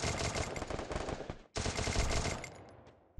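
Machine gun fire in the video game Free Fire comes in two long rapid bursts of loud, dense shots separated by a short gap, with no speech over it.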